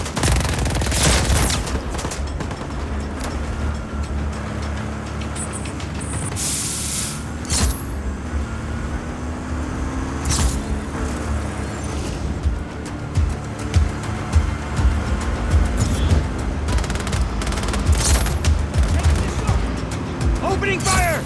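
Gunfire rattles through a Just Cause 4 gameplay scene in repeated bursts and volleys, mixed with vehicle rumble and occasional muffled voices, loud and busy throughout.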